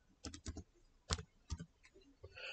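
A computer keyboard is typed on in a short run of quiet, close keystrokes, several quick taps followed by a couple of spaced ones, with no talking.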